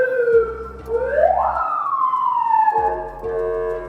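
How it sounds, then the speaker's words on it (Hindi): A siren hooter fitted to an armored 2009 Toyota Land Cruiser 200 VX wails loudly and close, sweeping up and down in pitch through a single continuous cycle over a low engine hum. "हूटर साइरन वगैरह भी दिए गए हैं जिससे आप रोड क्लियर करा सकते हैं"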